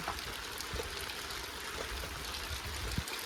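Steady rain falls during a Vat Purnima gathering in rural Konkan, a continuous close wash of patter with no talk and a few soft drips and taps standing out.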